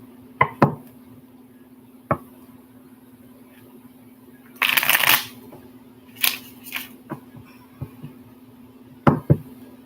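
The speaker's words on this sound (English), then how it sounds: "I'm trying to get a good shuffle" Tarot cards are shuffled up close in a quiet room, with short sharp riffles and taps scattered through the clip and one longer burst of flicking cards in the middle.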